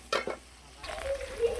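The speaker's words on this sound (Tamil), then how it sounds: "இருங்க, தக்காளி நல்லா வதங்கட்டும்" Tomatoes sizzle and hiss quietly in a pan, with a couple of soft stirring scrapes near the start.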